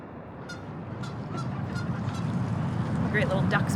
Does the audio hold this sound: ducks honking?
yes